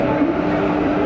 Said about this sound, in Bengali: এবার ট্রেন যাবে আমাদের এই সোজা